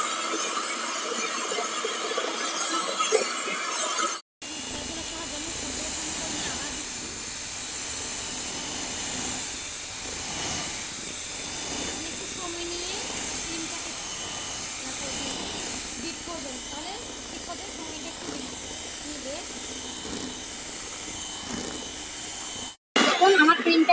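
An electric hand beater whips cake cream in a home kitchen, giving a steady whirring hiss that runs for about twenty seconds without a break. It starts and stops abruptly, and a voice talks over it at the start.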